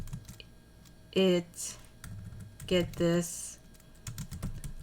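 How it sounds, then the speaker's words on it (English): Soft, rapid keystrokes tap on a computer keyboard in scattered bursts, faint beneath a person talking close to the microphone. "I'm just going to just type in"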